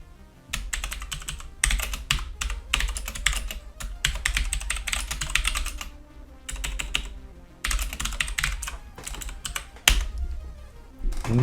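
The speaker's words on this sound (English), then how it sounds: "I'm rubbish at typing" Rapid irregular typing on a computer keyboard during a Commodore 64 programming session, close and clear, in bursts of clattering keystrokes with short pauses, no talking.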